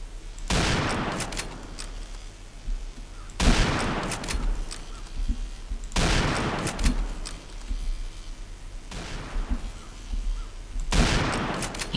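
Sniper rifle fire in the video game Combat Arms: five sharp, loud shots spaced about two to three seconds apart, each trailing off with a brief echoing decay.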